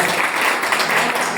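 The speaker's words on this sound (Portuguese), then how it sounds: "Bem forte as palmas de Jesus" Congregation clapping during a church service, a dense, steady wash of applause filling the whole short moment at close range, with no pauses.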